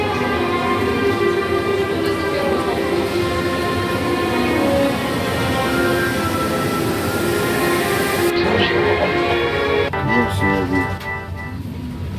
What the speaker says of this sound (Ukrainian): Укрзалізниця вітає вас на борту швидкісного поїзда Інтерсіті Плюс